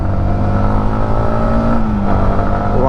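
A 2025 Yamaha MT15 motorcycle pulling through its gears at low RPM on a highway, a loud, steady engine drone rising in pitch, then dipping briefly at a gear change before climbing again.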